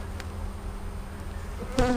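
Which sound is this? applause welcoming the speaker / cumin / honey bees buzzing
honey bees buzzing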